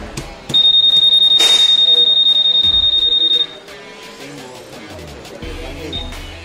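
A Honda PCX 160 remote alarm sounds one loud, sustained high-pitched beep lasting about three seconds, with clicks and a voice talking nearby.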